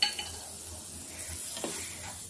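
Dry fruits such as almonds, raisins, dried dates and cashews roasting in a pan for sheera, giving a soft, faint sizzle with light stirring and a brief scrape of utensil against the pan.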